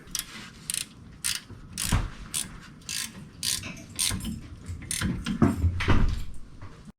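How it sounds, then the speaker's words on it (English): A hand ratchet clicks in quick, uneven bursts while tightening the rear brake caliper bolts on an Audi A4, close up, with metallic tool contact between strokes and no talking. "So now I just got to line up my caliper slides and put my bolts in."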